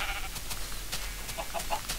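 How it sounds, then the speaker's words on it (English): Sheep bleating in the video game Minecraft, several short bleats repeating over a steady low background hum, moderately loud with no talking. "Oh my god, I've never been so happy to see a sheep."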